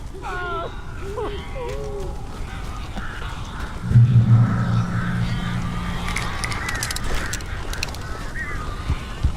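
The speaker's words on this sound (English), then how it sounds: "These birds are weird." A flock of attacking birds in the Alan Wake video game honks and squawks in repeated bursts over a constant noisy background, with a low droning tone in the middle.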